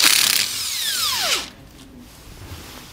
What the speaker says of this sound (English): We're going to use a 9/16 socket to remove each of these nuts.